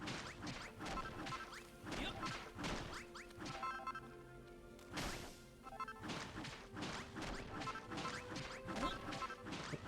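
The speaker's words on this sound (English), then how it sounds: "maybe kind of like we need to do some more smashing over here" Repeated block-smashing impacts in Dragon Quest Builders 2, a steady run of sharp crashes and whacks at close range with short swishes between them, continuing without pause.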